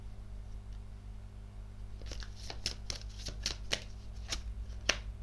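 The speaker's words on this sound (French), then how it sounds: "Je vais recouvrir cette carte." Tarot cards are handled and laid over one another, making a run of crisp, snappy card flicks and slaps after a quiet start, fairly close and with no talking.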